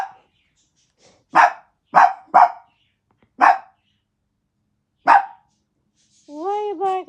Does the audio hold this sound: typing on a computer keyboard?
no